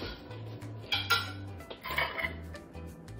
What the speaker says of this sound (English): Go ahead and mix that mayonnaise into the bowl with your minced garlic.